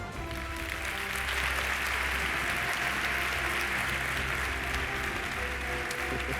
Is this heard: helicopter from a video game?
no